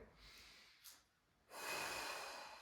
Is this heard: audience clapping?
no